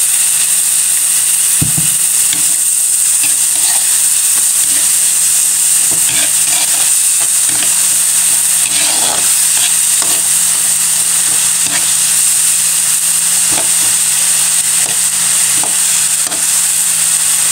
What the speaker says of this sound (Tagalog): At lalagyan ko rin po yan ng konting bagoong isda. Igigisa ko po yan ang ating gulay.